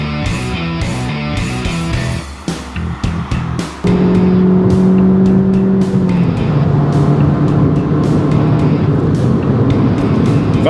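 A 2012 Fiat 500 Abarth's engine and exhaust sound while driving, a loud, continuous throaty drone that rises in pitch as it accelerates through the gears.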